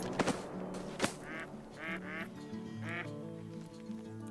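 Ducks quack in the hunting video game TheHunter Call of the Wild during a duck hunt in Layton, with several short nasal calls spread across a steady outdoor ambience, fairly faint and with no talking.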